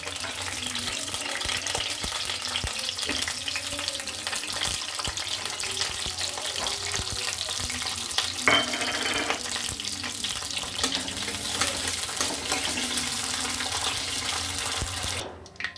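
Chicken sautés in hot oil in a pan, a loud continuous frying hiss running steadily throughout with occasional stirring clicks, cutting off abruptly at the end.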